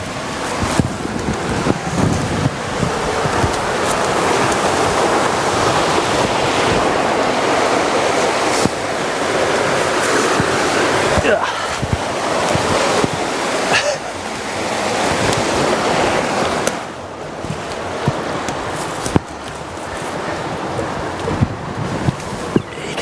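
River water rushing beside a riverside yew tree in Scotland, a steady loud broadband wash with wind buffeting the microphone throughout, no speech.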